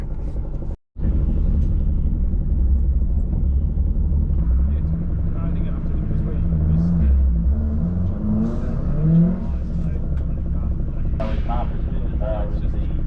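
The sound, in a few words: Toyota Starlet engine revving and accelerating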